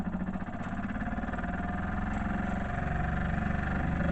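A small Jenson toy steam engine runs with the throttle open, giving a continuous, fast, even chugging hum at close range and a steady level throughout.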